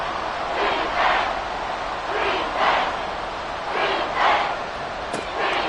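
A football stadium crowd at a Falcons–Giants game roars in rolling waves, swelling loudly about every second and a half over a constant dense murmur of many voices.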